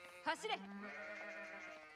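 Sheep bleat in the video game Age of Empires IV, one short wavering bleat rising over a steady game soundscape with a faint background drone.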